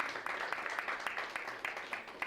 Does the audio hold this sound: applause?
yes